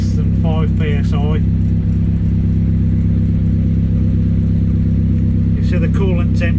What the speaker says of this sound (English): if I rev it to 2000